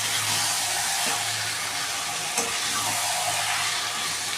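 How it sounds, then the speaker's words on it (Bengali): Mutton marinated in yogurt fries in a wok with a soft, even sizzle and a couple of faint scraping stirs, with no talking. "এবার আমি মাখিয়ে রাখা মাটন, দই দিয়ে মাটন দিয়ে একসাথে দিয়ে দিলাম। এবার এটা ভালো করে কষিয়ে নেব।"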